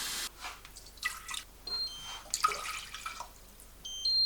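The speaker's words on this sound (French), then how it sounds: "Je vais mettre environ 2 verres d'eau froide qu'on va laisser chauffer." Cold water poured into a saucepan for making a flaxseed hair gel, a thin, wavering trickle with splashy bursts and small clinks, fairly quiet and close, with no talk.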